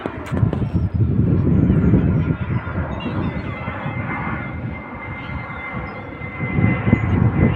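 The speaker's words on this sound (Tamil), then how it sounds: "மறுபடியும் இன்னொரு ஃப்ளைட்டு அந்த பகுதியில் வந்துக்கிட்டே இருக்குது" A British Airways airliner passes over London, a loud, steady broadband engine roar filling the whole stretch and swelling again toward the end, with outdoor street ambience and possible honking beneath.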